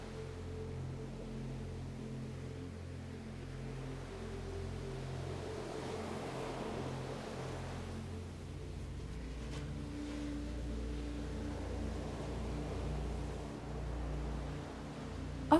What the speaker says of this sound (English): Listen to the sound of the waves.